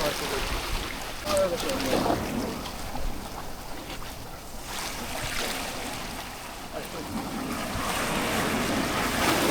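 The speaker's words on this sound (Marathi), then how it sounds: "आता समुद्राची भरती बघा किती झाली" Sea waves surge and wash at high tide near a floating line of crab-catching nets, a continuous roaring surf with wind buffeting the microphone.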